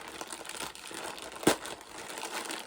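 An address sticker being ripped off an Adidas Ivy Park package gives a close crinkling and peeling rustle, with a brief sharp tear near the middle.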